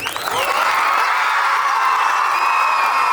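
A large group of high school students cheers and shouts together with clapping mixed in, a loud continuous roar of young voices rising into high whoops and filling the hall.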